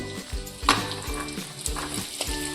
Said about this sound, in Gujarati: હવે તેમાં આપણે પહેલાં ગુંદ તળી લઈશું